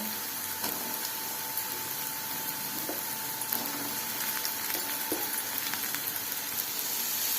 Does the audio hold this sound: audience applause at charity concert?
no